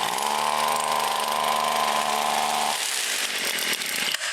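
A Tanaka Pro weed eater's small two-stroke engine runs at a high, buzzing whine for almost three seconds, then drops to a rougher, lower idle, close and loud with no talk.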